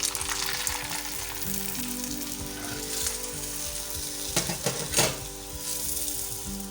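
Aloo paratha fries in oil in a hot pan with a steady, dense sizzle throughout, and a few brief louder crackles and scraping stirs near the end.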